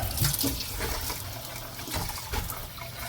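Running water splashes and trickles steadily over rocks nearby during rock tumbling, with a few brief clatters as the rocks are rinsed.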